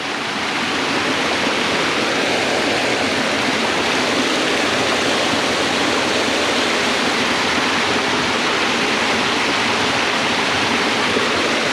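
A steady, loud rush of water pouring over rock, constant and close, with no voices.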